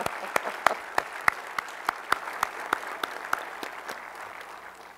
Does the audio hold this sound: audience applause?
yes